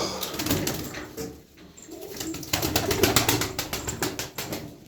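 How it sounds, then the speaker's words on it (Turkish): Several pigeons flap their wings in repeated bursts and coo softly, close by, with wing beats rising and falling over the span. "Arkadaşlar burada kaç tane kuş var?"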